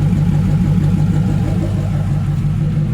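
A Chevrolet Corvette C4 engine idles through temporary dual 3-inch exhaust turn downs, a loud, steady, low burbling rumble with no talking.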